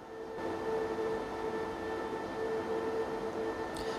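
A Bitmain Antminer S19 Pro crypto miner in low power mode, a steady close fan roar with a faint tonal whine running continuously and evenly throughout, no voices.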